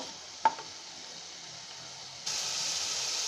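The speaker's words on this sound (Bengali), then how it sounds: "এখন মুরগির কিমাটা একটু ভাজা ভাজা করব" Chicken mince frying in a pan makes a soft, steady sizzle, with a single sharp tap near the start and the hiss rising brighter and louder partway through, continuing alone with no voices.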